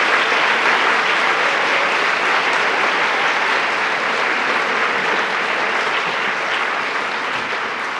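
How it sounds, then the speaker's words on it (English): A large audience claps loudly and steadily for the full stretch as a scientist is welcomed onto the stage at a live science talk event in London, with no voices over the applause. "Some people are applauding like their grades depend on it"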